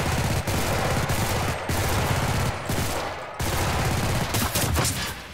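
Dense, continuous gunfire from a World War II shooter game, Enlisted, set in the Stalingrad battle, with rapid overlapping shots and bullet impacts in sustained loud bursts and brief gaps.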